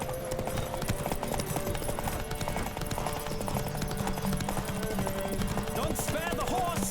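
Horse hooves clip-clopping at a gallop during a race in The Witcher 3, a steady rapid beat under game music and sound effects, with voices calling out over it at times.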